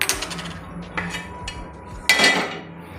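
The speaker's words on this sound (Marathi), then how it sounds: "आता गॅसवरती मी तवा ठेवणार आहे गरम करण्यासाठी" A metal tava griddle clanks onto a gas stove in a home kitchen amid scattered utensil knocks and taps, ending with a louder metallic clatter, no talking.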